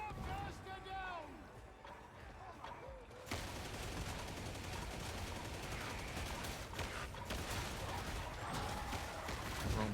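Sustained gunfire fills a chaotic battle in the video game Darktide, dense and loud after the first few seconds, with voices and other combat noise running underneath.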